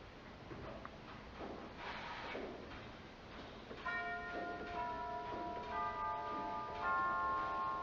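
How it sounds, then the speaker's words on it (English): A church pipe organ's chime rank rings out in a Lutheran church, with sustained metallic bell tones entering partway through and overlapping in a slow sequence, preceded by quieter room sounds. "a couple final interesting features about this instrument are the chime rank, which is playable both on the choir division"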